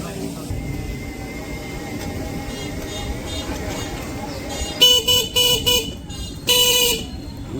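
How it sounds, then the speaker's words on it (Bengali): Car horns honking in a traffic jam on a rainy road, several short loud toots near the end, the last one longer, over a background of engine noise and people talking. "ওই যে জাম বাজাইছে, এইটুকু জায়গা সব সময় জাম থাকে।"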